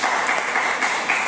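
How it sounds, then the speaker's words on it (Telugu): Audience applause at a Telugu Christian sermon, a brief burst of many hands clapping together in a dense, steady patter with no pauses. "చప్పట్లు కొట్టండి ఒకసారి."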